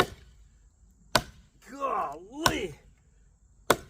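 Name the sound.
Gladiator knife chopping solid wood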